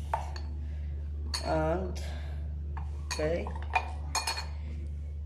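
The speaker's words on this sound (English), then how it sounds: "Finally, place the two spoons" Metal spoons set into a glass bowl, giving several brief clinks and chinks spread across a few seconds, close and fairly crisp, with a person speaking briefly in between.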